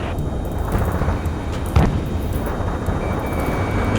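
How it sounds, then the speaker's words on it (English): Low, continuous roaring of jets fills a city scene under martial law in the video game Ace Combat 7, with a dense rumbling wash and one sharp bang partway through; no talking. "Gunfire and the roar of jets echoing through the streets."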